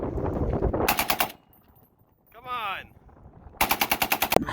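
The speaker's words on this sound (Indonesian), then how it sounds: "Dan ternyata ini adalah tembak Asaul teman-teman." A toy assault rifle fires rapid, evenly spaced electronic bursts. One burst comes first, then a short warbling sweep tone, then a second burst, all loud and close with no voices.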